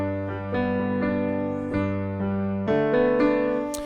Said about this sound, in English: I'm going to work that melody into my arpeggio here because I think it sounds really cool